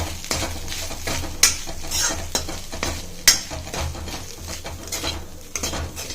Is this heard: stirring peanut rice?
yes